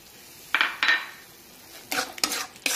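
A sugar and milk mixture being cooked down in a pan, with a few separate metallic spoon scrapes and stirring clinks against the pan, close and fairly loud over a quiet background.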